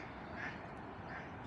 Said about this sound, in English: More ducks.